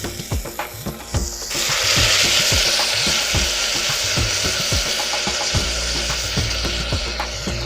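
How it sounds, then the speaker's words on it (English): Onions deglazed with vegetable stock sizzle loudly in a pan, with a sudden surge of hiss after the liquid goes in, while a spoon scrapes and taps the pan in a steady rhythm underneath. "I deglaze the onions with a little vegetable stock."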